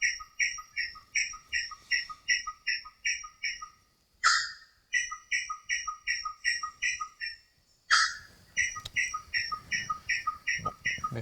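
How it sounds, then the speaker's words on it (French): Black honeyeater in a forest singing its morning song: repeated bright whistled phrases in a steady rhythm, close and clear, with two brief louder bursts breaking the series. "C'est le mélifage noir."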